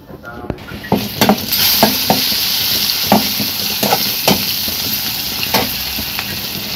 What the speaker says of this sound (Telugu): ఉల్లిపాయ అయితే వేగిన తర్వాత ఇక క్యారెట్ను ఇంకా బంగాళదుంపలు ఫ్రై అయితే చేస్తున్నాను